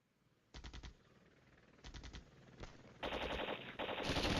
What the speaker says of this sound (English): And there we go. First shots.